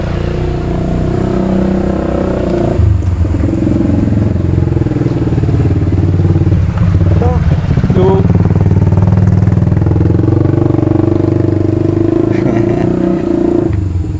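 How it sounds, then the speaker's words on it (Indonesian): A motorcycle engine rumbles loud and close as it passes by, with a steady drone and some clatter throughout. "Awas, ada motor."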